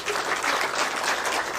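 A room full of people at a polytechnic press briefing gives a short burst of steady, even applause, close and continuous throughout.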